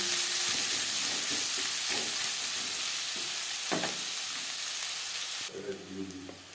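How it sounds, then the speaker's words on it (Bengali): Plenty of onion frying in a pan for a spiceless pabda fish curry with green tomato, a dense, continuous sizzle with occasional stirring scrapes that quiets abruptly near the end, with no one speaking. "পেঁয়াজ অবশ্যই লালচে করে ভেজে নিতে হবে"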